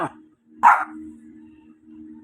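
Dog giving two short barks separated by a pause, close and fairly loud, with a faint low hum running underneath.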